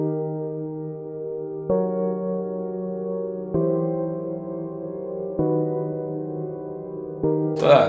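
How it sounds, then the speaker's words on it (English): A simple synthesized bass line transposed down from a chord progression in FL Studio plays alone, five sustained low notes changing at steady intervals with a brief bright hit at the end. "I'm just gonna add a quick bass line"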